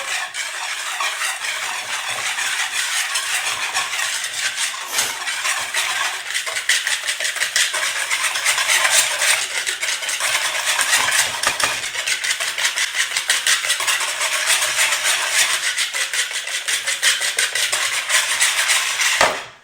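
Eggs and powdered sugar are whisked or beaten in a bowl for a ghriba made with semolina and coconut. The mixing runs fast and continuous, with a dense, rapid clatter that stays at the same loudness throughout.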